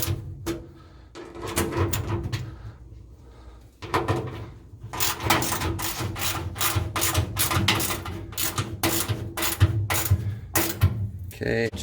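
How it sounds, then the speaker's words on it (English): A 10mm socket wrench snugs down bolts on a US General tool chest end locker, giving repeated quick ratcheting clicks in close bursts, with short pauses between bolts and a denser run of clicks later on. "we'll get our 10mm socket in here. Snug those down."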